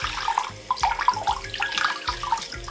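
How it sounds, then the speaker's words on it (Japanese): Oranges are washed under running tap water, a steady close splashing and trickling stream with shifting spatter that continues throughout. "オレンジは流水でよく洗います。"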